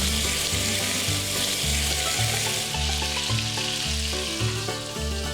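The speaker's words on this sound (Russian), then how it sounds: "обжариваем их до золотистой корочки с каждой стороны в течение 5 минут в их собственном жиру" Steady, dense sizzle of chicken pieces frying in their own fat until golden, loud and close, with a low rhythmic hum underneath and no voices.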